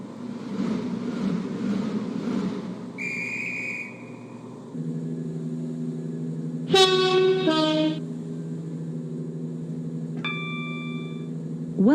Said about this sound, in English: Hey, it's a Connect train.